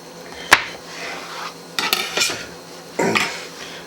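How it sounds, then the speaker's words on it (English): Knife slicing pears in half on a board, a few sharp clicks and taps of the blade against the cutting surface, close and fairly quiet, with no talking. "our first step in this is to take our pears and cut them in half"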